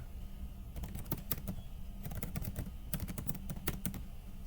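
A computer keyboard is typed on in quick, uneven bursts while a Linux configuration file is edited, giving close, crisp key clicks over a quiet room hum.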